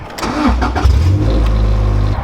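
A car with a big exhaust leak starts up, a loud rough low rumble swelling into a steady, throaty idle close by.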